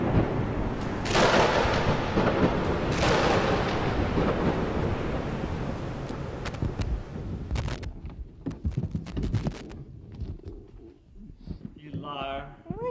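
A staged thunder effect for a tropical storm in a 1979 performance piece rolls loud and broad for several seconds, then fades into scattered crackles, with voices entering near the end.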